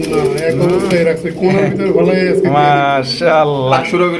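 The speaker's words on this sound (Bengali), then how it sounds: "অবশ্যই অবশ্যই কবুতর ডাকবে" Pigeons coo in repeated, rolling phrases, loud and close, one call following another with brief pauses between them.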